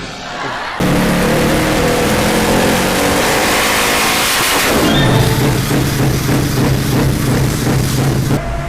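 A two-stroke 55 HP motorcycle engine revs hard in a loud, raspy, continuous roar, then drops back to a buzzing, pulsing idle, very close.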